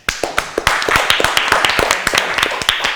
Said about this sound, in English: I want to clap both the teams